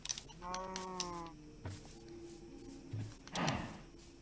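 Parrots in the Minecraft video game give a few short, squeaky squawks and chirps amid faint game sounds, with a nasal warbled cry near the start and a brief harsh burst near the end, under soft in-game ambience and light talk.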